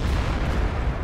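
A heavy tank gun fires in World of Tanks, a T57 Heavy battle on Ruinburg, with a loud, booming low blast that rumbles and fades over about a second, with no talking.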